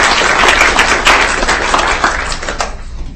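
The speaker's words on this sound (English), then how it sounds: "Let's give them a round of applause." Audience applause at a governing board meeting, many people clapping loudly and continuously, with sharp individual claps popping out of the crowd noise and tapering slightly toward the end.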